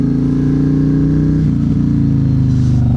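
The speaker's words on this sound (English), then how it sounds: "And the backfires and pops." A Yamaha Raider 113-cubic-inch motorcycle with a Vance & Hines 2-into-1 exhaust and Power Commander 5 rumbles loud and close, engine revving steadily, though distinct backfire pops are not clearly separate.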